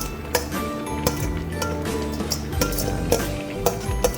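Corn tipped into a pan of sautéed shrimp paste, with clinks and scrapes of a utensil against the pan over a steady sizzle, a few sharper knocks standing out.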